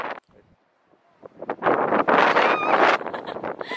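Strong wind and crashing waves on a beach on Jeju Island, Korea, building from near quiet into a loud, broad roaring rush of surf and wind buffeting the microphone.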